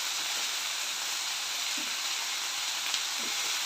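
Ivy gourd pieces cook with salt in a pan, producing a soft, even hiss with a few faint stirring touches, quiet and steady throughout.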